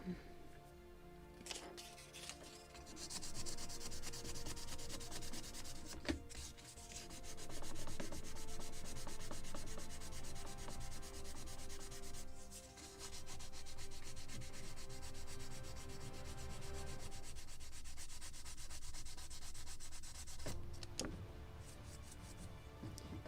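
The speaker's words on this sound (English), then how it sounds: "now I will sand it" A gun carriage for a 1776 gunboat Philadelphia ship model is rubbed with fine sandpaper, giving a close, steady scratchy sanding rasp in long continuous strokes with brief pauses.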